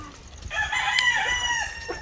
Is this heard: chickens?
yes